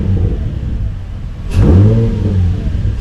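An Infiniti G35 engine revs up once from a steady idle, a loud, close burst of mid-pitched roar that rises and then settles back to a rumbling idle.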